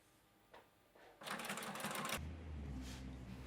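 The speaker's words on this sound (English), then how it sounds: "I'm happy machining a straight stitch." A home sewing machine runs a straight stitch through dress fabric and lining on a princess-line panel dress, whirring steadily for about a second before stopping, with softer motor hum and handling noises around it.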